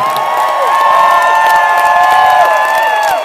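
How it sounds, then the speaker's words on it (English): A large crowd at Red Rocks Amphitheater applauds and cheers loudly for a School of Rock performance, sustained whoops and high shouting voices over continuous clapping throughout. "Give a nice round of applause."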